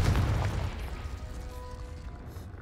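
A Confringo spell blast from Hogwarts Legacy hits with a single loud, close boom that fades into a rumbling tail of debris.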